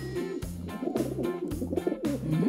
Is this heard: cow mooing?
no